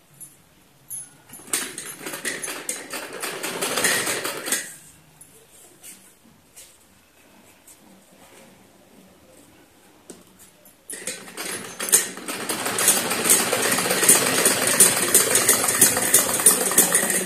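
A sewing machine stitches along a folded hem while a semi Patiala salwar is being made, running in two bursts: a short stretch near the start, then a louder, steady whirring run after a quiet pause with faint handling.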